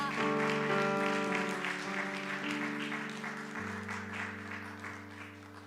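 An audience at a church youth worship service claps steadily and densely throughout, mixed with sustained music underneath.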